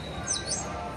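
Electronic toy birds in a shop give a few faint, thin synthetic chirps playing a Jingle Bells tune, heard over low room noise.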